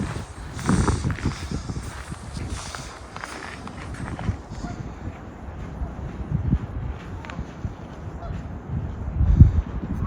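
Geese honk several times at a distance over snowy outdoor winter ambience in Calgary, Canada, and footsteps on the ground, with occasional voices.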